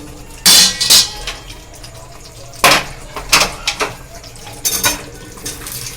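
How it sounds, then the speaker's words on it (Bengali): Boiled chickpeas tumble from a container into a pan of masala, with several sharp metallic clatters and scrapes of a spoon against the pan arriving in uneven bursts between quieter moments. "এবার আমি এই চানাগুলো এর ভেতরে ঢেলে দেবো"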